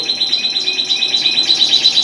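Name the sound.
red factor canaries chirping in an aviary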